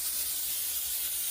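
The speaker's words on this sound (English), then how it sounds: "So I'm going to go ahead and spray." Cooking spray released onto a metal sheet pan in a home kitchen, a continuous close hiss filling the whole moment with no talking.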